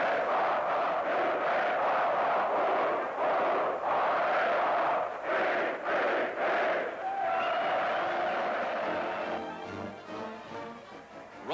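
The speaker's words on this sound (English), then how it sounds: "they cheer just as heartily for one team as the other" A large stadium crowd in Sydney roars and cheers at an Army-Navy American football game in 1943, a loud sustained wall of voices with repeated surging bursts, fading slightly toward the end.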